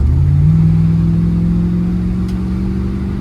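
A 1973 Dodge Polara 440 patrol car engine runs loud and close, a steady low drone that rises slightly in pitch early on, then holds as a sustained rev with no voices.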